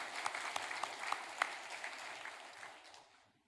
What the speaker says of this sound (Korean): 하나님 앞에 우리 영광의 박수를 함께 올렸으면 좋겠습니다